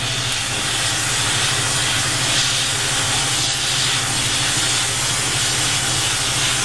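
Steady, loud hissing of steam as water is poured on a torch-heated hempcrete block, a continuous broadband rush that lasts throughout without pause.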